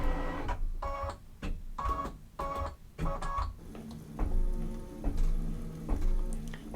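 A Brother embroidery machine stitches an eye-and-belly outline on a quilt panel, giving bursts of rapid mechanical clatter that break into short pauses, then settle into a quieter, steady rhythmic ticking.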